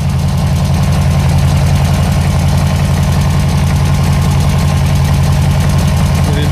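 A gaseous-fueled engine on a test run idles steadily after an idle adjustment at 50 psi fuel pressure, giving a loud, close, constant low rumble with a fast, even pulsing throughout and no talking.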